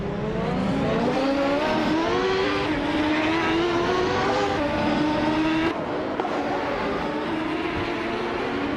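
Race cars, including a 1995 Penske PC23, roar through a video game race with continuous high-revving engine whine, pitch rising and shifting as gears change, loud and close with no talk.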